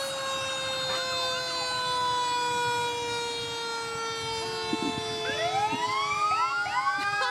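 Fire truck sirens in a town parade, loud and continuous, with wailing tones that sweep up and down and overlap as several units sound together, no voices.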